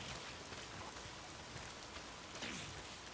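Steady rain falling in the Days Gone video game, a soft, even patter of drops on surfaces with faint scattered splashes, continuous and fairly quiet, no voices.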